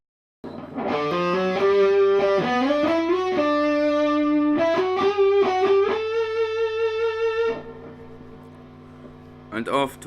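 Electric guitar playing a solo with a distorted, effects-laden tone: a continuous run of sustained bending notes and slides, loud and close, easing into a held note before a brief final strum.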